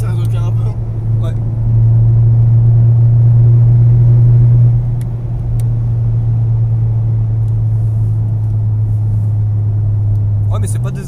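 A Golf 7 GTI Performance with a DSG gearbox accelerating: a loud, steady low engine drone from inside the car, with the pitch stepping between gears. People talk over it throughout.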